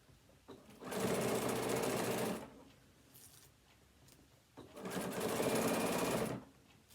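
A sewing machine stitches binding onto a fabric phone stand in two steady bursts of about one and a half seconds each, with a brief pause between them and faint handling noise.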